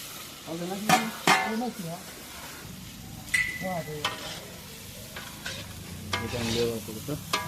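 Tempering spices sizzle in hot oil with a bright crackling hiss, while a person talks over the frying in short bursts.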